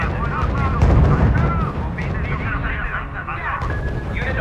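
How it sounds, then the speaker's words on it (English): Unit gunfire and artillery booms from the real-time strategy game R.U.S.E., a dense, continuous rumble of shots and blasts with a heavier burst near the start, under game voice announcements. "Unit opening fire on the enemy."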